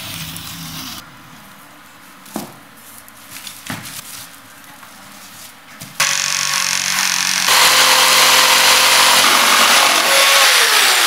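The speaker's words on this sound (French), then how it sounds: "Tu perces un trou adéquat" A hole is drilled through a small wooden board with a power drill, the motor starting quietly, then whining loud and steady for about five seconds near the end, broken earlier by a few sharp knocks.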